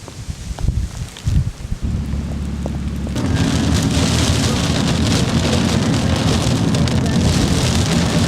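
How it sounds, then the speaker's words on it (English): Rain beginning to fall outdoors, a steady broadband patter that starts after a few seconds of quieter, bumpy handling noise and then holds evenly loud to the end. "it's starting to rain now"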